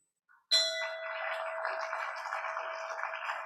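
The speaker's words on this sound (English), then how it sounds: "ring the bell once for me" A bell rung once at a Rotary club meeting gives a single sharp strike followed by a steady, ringing tone that sustains for about three seconds with slight shimmer, heard alone without talk.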